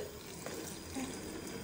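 Hot water runs steadily from a tap for a baby's bath, a continuous close rushing and splashing with no voices.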